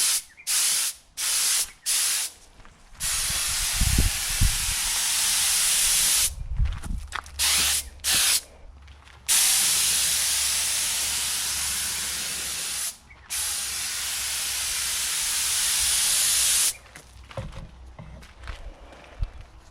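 Aerosol spray paint hissing onto a car gearbox, a series of close bursts of steady hiss of varying length separated by short pauses, with occasional light footsteps and handling noises between sprays.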